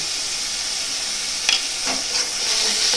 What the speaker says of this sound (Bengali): টক দইটাকে দিয়ে হালকা করে নাড়াচাড়া করে নেব।